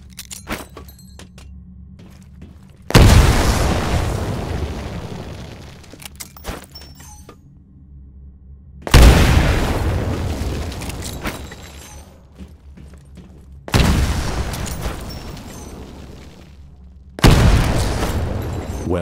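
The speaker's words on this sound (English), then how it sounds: "Throw a grenade into each of the windows." Four grenades in the Titanfall training course blast one after another, each a loud, close boom with a long rumbling decay, spaced several seconds apart with quiet gaps between.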